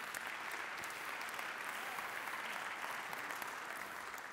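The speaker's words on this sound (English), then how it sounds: "Yes, do give it a round of applause." Steady applause from an audience at a speaking event in St. Paul, a dense, even wash of clapping at moderate level that carries on throughout with no voices over it.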